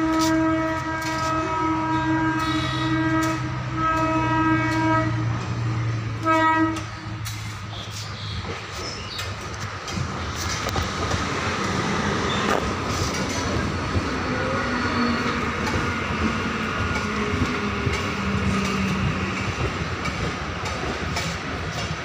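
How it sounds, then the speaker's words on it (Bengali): A train pulls into Prinsep Ghat railway station on the Eastern Railway. A sustained tonal horn at the start gives way to a loud, continuous rolling rumble and clatter of wagons passing close by. "ওই যে এসে গেছে ট্রেন।"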